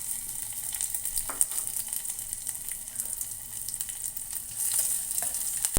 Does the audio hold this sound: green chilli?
yes